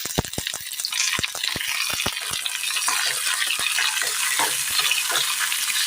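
Chopped tomatoes sizzle in a hot pan. A rapid run of close spatula taps and clicks comes first, then gives way to a steady, hissing fry with scattered stirring sounds.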